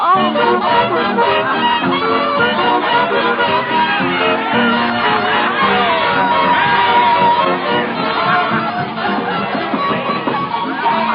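A packed crowd waiting outside a theater dressing room roars continuously with shouts, whoops and cheering, loud and dense throughout with no gaps.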